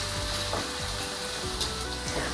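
Potato pieces frying slowly in a modest amount of oil, giving a steady close sizzle and crackle with occasional soft stirring scrapes throughout.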